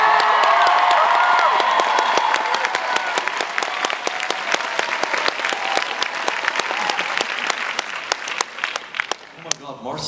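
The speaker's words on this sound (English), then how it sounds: "I think it deserves a little more applause than that." Comic-Con panel audience at San Diego Comic-Con 2015 bursting into loud, sustained applause with cheering and whoops, dense clapping from a large hall crowd that gradually thins toward the end.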